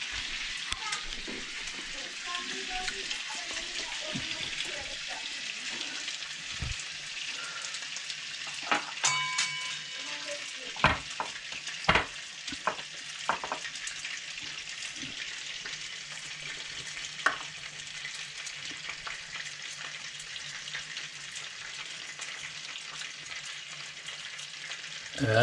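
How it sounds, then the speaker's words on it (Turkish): Mint leaves frying in hot oil in a home kitchen, a steady soft sizzle with occasional scraping stirs and clinks of a utensil against the pan, fairly quiet and close throughout. "Evet, kızaran yağımızı biraz nane attırdım."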